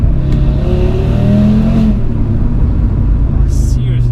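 Close, loud engine rumble of a 500 BHP Audi RS3 accelerating hard, pitch climbing through a gear before settling. Voices are heard over the engine.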